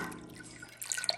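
Dissolved solution poured into a pot of fresh milk from a family milk cow during mozzarella making, a soft liquid trickle and splash that grows louder toward the end, heard alone without talk.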